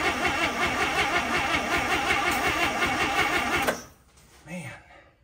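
A weak-running 1955 Chevy engine idling roughly with a steady buzzing rumble as throttle is applied, then cutting out abruptly to near silence with a faint brief noise afterward.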